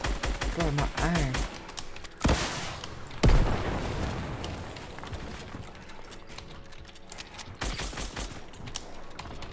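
Fortnite gunfire sounds off in bursts of rapid shots and a couple of heavy booms, loud and close, with players talking now and then between the volleys.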